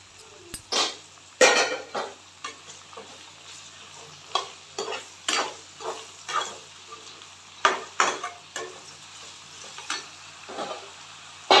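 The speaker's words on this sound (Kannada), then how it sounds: "ಈಗ ಇದಕ್ಕೆ ಸ್ವಲ್ಪ ಉಪ್ಪು ಹಾಕಿ ಚೆನ್ನಾಗಿ ಫ್ರೈ ಮಾಡ್ಕೊಳ್ಳೋಣ" Vangi bath ingredients frying with salt in a pan, stirred with a utensil in repeated scraping strokes that clink against the metal over a soft sizzle, close and fairly loud.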